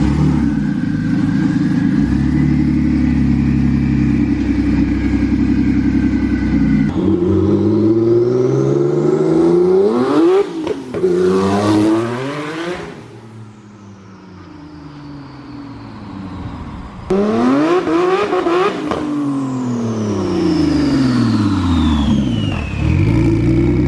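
Forged twin-turbo Nissan 370Z engine revving hard on a dyno, loud and close, climbing in sweeping pulls through the rev range, easing off briefly, then pulling up again in a second long run.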